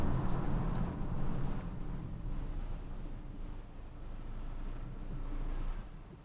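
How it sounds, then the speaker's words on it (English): Wind rushing past the open window of a 2017 Ford Escape SE, a low steady roar with a slight rise and fall that fades at the very end. "Too much wind."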